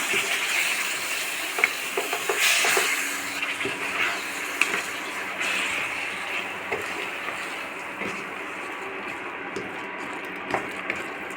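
A laddu mixture with peanuts and nuts is stirred and mixed in a pot, giving a steady scraping, rustling texture with occasional knocks, close and moderately loud.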